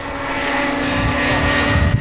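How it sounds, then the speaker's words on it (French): Helicopters flying loops, rolls and very tight turns at a 1981 air meeting in Yverdon, their engines and rotors droning loud and steady throughout, with no voices. "on arrive avec ces hélicoptères à faire des loopings, des virages très serrés, des tonneaux"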